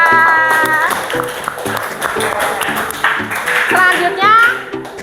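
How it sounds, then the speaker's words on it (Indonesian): A classroom group claps for a classmate in a quick, rhythmic pattern, close and loud, while children's voices call out and chatter over the clapping. "tepuk tangan untuk Nisa"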